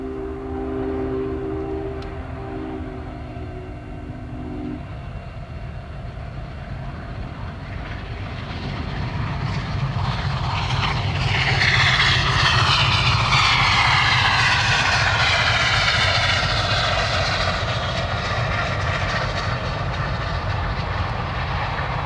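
Union Pacific 844 steam locomotive charging through Big Springs, Nebraska, a loud rumbling roar that swells in after a few seconds and holds steady, close and powerful, with no voices.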